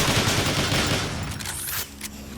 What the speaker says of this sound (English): He, of course, comes with his typical neutron assault rifle